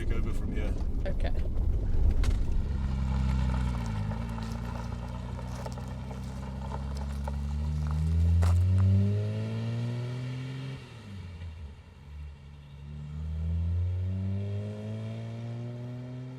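A 1970 Mercedes 280SE with a manual gearbox slows and pulls over, its engine note falling and rising through gear changes, with people talking over the steady cabin drone.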